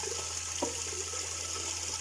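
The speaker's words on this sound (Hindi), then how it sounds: "इस वजह से ये पानी भर रहे हैं" Water running into pots and containers at home during a heavy storm, a steady rushing pour over a constant low hum, with no voices.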